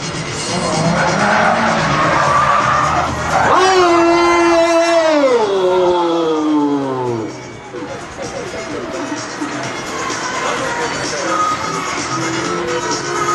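A drift car's engine, a gold Silvia S13/180SX conversion, roars and revs loudly at a drift qualifier while smoking tires squeal in long rising and falling screeches, then the engine fades and picks up again in the distance.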